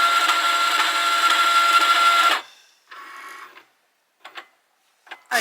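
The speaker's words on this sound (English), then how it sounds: "now the machine has finished doing the scan of all the registration marks" A Cricut cutting machine scans registration marks on a printout. Its motor gives a steady whirring hum for about two seconds, then fades. A softer run and a few brief mechanical clicks and whirs follow.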